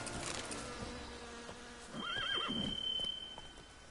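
Roach, the horse in The Witcher 3, lets out a clear whinny mid-clip over faint hoof clip-clops and soft game ambience, with no talking.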